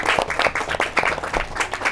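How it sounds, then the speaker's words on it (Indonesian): Clapping from a school audience after children sing at an elementary school event, a steady patter of many hands filling the short stretch at moderate loudness with no voices. "Boleh tepuk tangan buat semuanya yang luar biasa ya."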